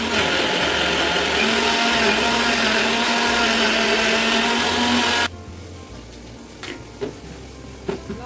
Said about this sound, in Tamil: ஸோ மிக்சியில் ட்ரான்ஸ்ஃபர் பண்ணிட்டோம். இப்போது இதை நல்லா ஃபைன் பேஸ்ட்டாக அரைச்சிட போகிறோம்.